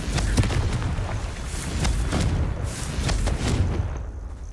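Repeated Confringo fire-spell blasts in Hogwarts Legacy, a series of dull booming bursts with crackling hiss over a steady rumbling game-combat background.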